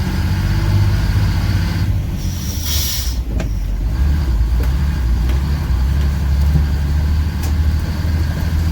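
A prewar Silversides bus drives along, its engine and road noise forming a loud, steady low rumble with rattles and a few faint clanks, and no voices.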